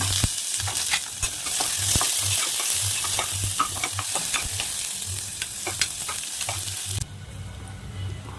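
Chopped green chili and a small chopped onion hit hot oil in a pressure cooker, sizzling and frying loudly with scraping stirs and clinks, the hiss dropping off sharply near the end.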